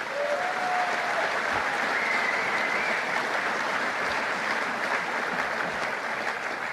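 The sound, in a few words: audience applause at a political rally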